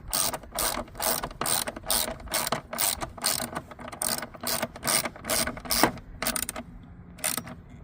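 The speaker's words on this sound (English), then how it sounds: "You want to make sure that you tighten up all the screws." A ratchet tightens the screws on the air filter box of a Jeep Compass/Patriot, giving about a dozen quick, close bursts of sharp clicking in a steady rhythm with brief pauses between strokes. No one speaks.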